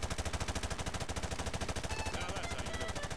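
Rapid automatic gunfire in Modern Warfare 2, a dense, evenly pulsing stream of shots running continuously from start to finish at steady loudness.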